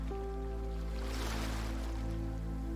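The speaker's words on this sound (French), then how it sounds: "les vagues caressent doucement le sable" Gentle ocean waves washing onto sand at a calm shore, a soft continuous wash with a low steady rumble, faint and alone.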